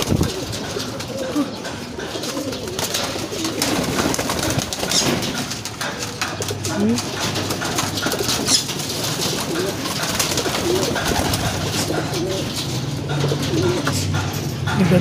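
Pigeons, including Andalusians, coo continuously in a loud, busy chorus inside a loft, with rustling and a bit of background noise throughout.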